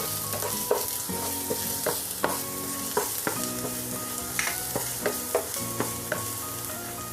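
Minced garlic and ginger sizzle in a hot pan as a spatula stirs them, sharp scraping taps landing at an uneven pace over a continuous frying hiss, close and alone.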